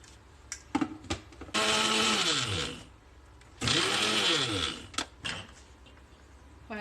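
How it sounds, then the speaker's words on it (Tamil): A kitchen mixer grinder grinds coriander seeds, dried chillies, curry leaves and sesame in two loud whirring bursts of about a second and a half each, with clicks and knocks from handling the jar around them. "இது கொஞ்சம் அரைச்ச பிறகு எள்ளை போட்டு சேர்த்து அரைப்போம் எல்லாத்தையும்."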